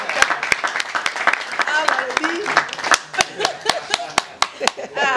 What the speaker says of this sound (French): on applaudit pour l'acteur.